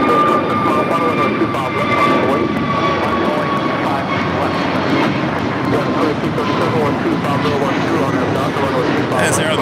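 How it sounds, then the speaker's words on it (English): An Aeromexico Boeing 787-8 Dreamliner departs from the south side at LAX, its jet engines giving a loud, steady broadband roar with a faint whine throughout, close and continuous. "As Aero Mexico Flight 647 heading to Mexico City, a 787-8 Dreamliner. Heading on for a Southside departure."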